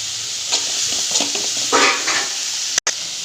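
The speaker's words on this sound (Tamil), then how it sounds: "வெங்காயத்தை நல்லா வதக்கிக்கலாம்" Onions sautéing in a pan with salt, a steady sizzle broken by several scraping stirs of a spoon, one louder scrape, and a brief dropout near the end.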